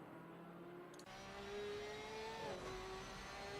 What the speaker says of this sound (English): Let's have a listen to the car.